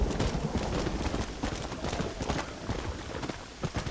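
Horse hooves from the video game Red Dead Redemption, a steady run of clip-clop beats heard up close over a constant background wash of rain.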